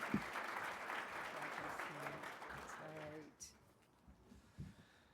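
An audience claps in welcome for a speaker at a talk on family enterprise in Canada, a full round of applause that fades out after about three seconds, with a voice briefly heard over it.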